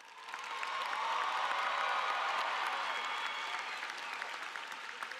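Audience applause at a Boyd Anderson High School commencement at Nova Southeastern University, honoring graduates enlisting in the armed services; a large crowd claps steadily and evenly, swelling at the start and holding for several seconds.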